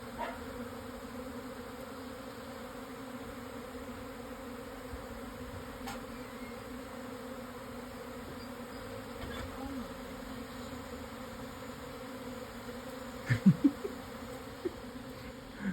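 Honey bee swarm buzzing as a faint, continuous hum at a distance, with a few soft knocks and handling noises late on; no talking.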